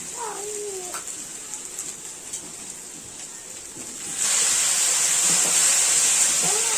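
A spice paste frying in a pan for a mustard-oil morola fish curry bursts into a loud, steady sizzle partway through when water is added, after a quieter stretch of faint kitchen noises.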